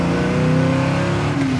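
A 1967 Chevrolet Camaro RS/SS engine drones loudly and steadily from inside the car while driving, a continuous close rumbling growl with a slight rise in pitch toward the end.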